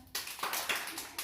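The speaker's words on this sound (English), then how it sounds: "Clap your hands." A group of children claps their hands together in a classroom warm-up game, producing a quick flurry of overlapping claps lasting about a second.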